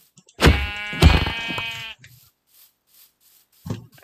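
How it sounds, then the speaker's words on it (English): Sheep in the Minecraft video game bleat twice in quick succession, loud and close with a wavering tone, then fall quiet before a third, shorter bleat near the end. "Alright, there's sheep."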